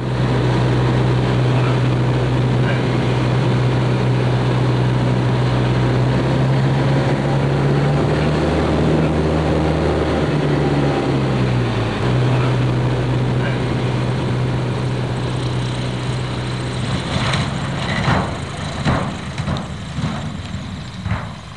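A propeller airplane in flight, its engine droning steadily and loudly throughout, the pitch easing slightly midway, with some louder rattling bursts near the end.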